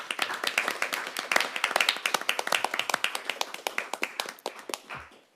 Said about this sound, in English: A round of applause for our judges, please.